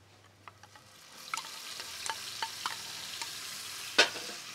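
A steady, quiet sizzle of garlic-ginger paste frying in oil, with scattered soft stirring taps and one sharper clink near the end.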